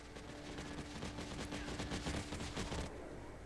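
Rapid bursts of gunfire from a Guild Wars 2 PvP match, a dense run of repeated shots over steady game background noise for about three seconds before thinning out.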